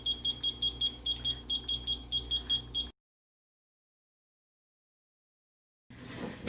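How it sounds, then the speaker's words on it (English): A kitchen timer alarm beeps in a fast, regular series of bright electronic tones for about three seconds, stops into silence, then faint room noise returns. "So the alarm has gone off."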